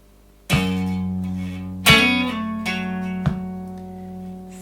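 An electric guitar plays the intro of a song: three plucked notes ringing clearly in sequence, a grace-note hammer from index to ring finger, then a pull-off and a return to the root.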